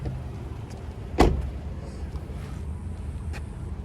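The fuel door on a 2015 Toyota RAV4 XLE pops open after the release is pulled, a single sharp click over quiet cabin background noise.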